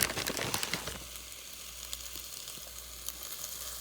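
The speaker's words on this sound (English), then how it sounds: "It's a good sizzle right there." A steady, soft sizzle of hash browns frying in a pan, with a few sharp clicks and scrapes near the start, then a quieter crackling hiss continuing alone.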